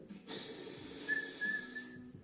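Someone attempts a finger whistle, making a breathy, airy blow that only briefly catches a thin, wavering whistle tone before fading out; close and fairly quiet, with no talking.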